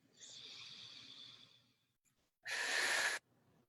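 A slow, deep breath during a meditation breathwork session, first a long soft airy inhale, then after a pause a short, louder rush of breath; close and intimate with no talking.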